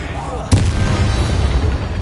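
The Bombarda spell detonates with a sudden sharp boom in Hogwarts Legacy, followed by a rumbling low-heavy tail that carries on to the end.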